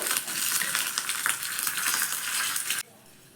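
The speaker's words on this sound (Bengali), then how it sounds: "দেখো মশলাটা ভাজা হয়ে গেছে" Dry chilli, black mustard seeds and curry leaves frying in a pan give a loud, dense crackling sizzle that runs steadily for about three seconds before cutting off sharply.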